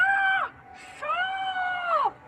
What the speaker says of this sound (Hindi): जोर जोर से चिल्लाने लगती है